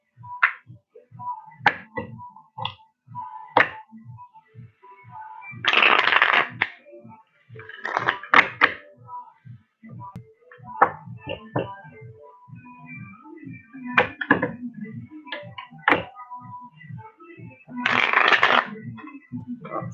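Alpha Tarot cards shuffled and handled by hand, giving repeated quick riffling bursts and light taps in an irregular rhythm, close and fairly loud, with no talk over them.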